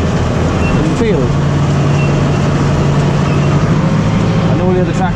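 A classic Ford 7610 tractor hauls a trailer of potatoes across a field, its engine a steady, loud, close drone with a constant low hum throughout and no pauses.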